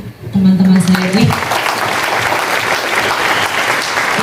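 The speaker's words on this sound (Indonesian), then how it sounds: "Barangkali mungkin tepuk tangannya untuk teman-teman saya ini." An audience at a school visit in Cirebon claps together in sustained, dense applause, with a voice heard over the opening second before the clapping runs on evenly.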